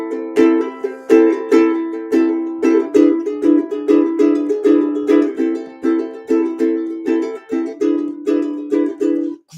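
A ukulele strummed in split stroke, a brisk, steady rhythmic pattern of sharp repeated strums on bright chords, close and loud with no voice.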